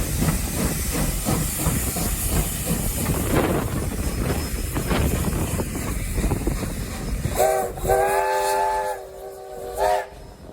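Narrow gauge Southern Pacific steam locomotive number 18 hisses steam in a loud steady rush, then a few seconds of steam whistle sound near the end, with no talk.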